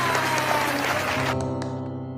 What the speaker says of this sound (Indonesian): Oke, kita tepuk tangan buat kemuliaan Tuhan.